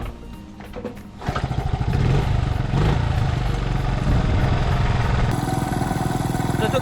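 A restored 50-year-old Honda Dax 50cc motorcycle engine starts after a quiet moment and runs loud and steady nearby, with a regular rapid putter throughout.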